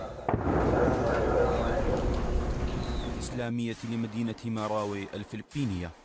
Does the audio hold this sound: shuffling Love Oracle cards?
no